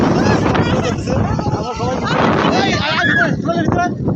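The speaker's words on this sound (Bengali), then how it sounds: "তো গাইজ পর্যন্ত ঝড় আসছে দেখতে পাচ্ছ কি আমরা" Strong gusty wind before a storm roars steadily against the microphone, with people talking loudly underneath throughout.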